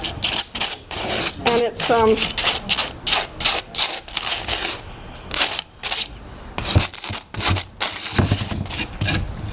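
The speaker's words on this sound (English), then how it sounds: "I'm going to just scrape this. You can hear the grit." Gritty salt paste is scraped across a banner surface in a series of rough, rasping strokes, close and uneven, with a person briefly speaking between them.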